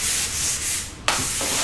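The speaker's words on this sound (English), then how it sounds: "he's sanding it down with a 400 grit sandpaper" Sandpaper of 400 grit rubs back and forth over a flat-white painted quarter-inch MDF round cradle board, a close, steady scratchy hiss with a brief pause near the end.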